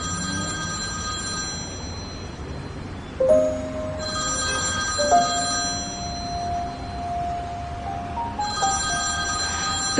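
A telephone rings steadily in a repeating electronic tone pattern through most of the span, moderately loud beneath a soft tonal music background, with no one speaking.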